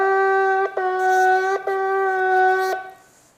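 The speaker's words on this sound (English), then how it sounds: "That is the shvarim, the medium sound." Three medium-length shofar blasts (shevarim) in a row, each sustained about a second with brief breaks between, loud and close.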